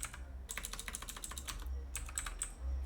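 Computer keys clatter in quick, close bursts of typing, a short pause midway before another run of taps, over a low steady hum.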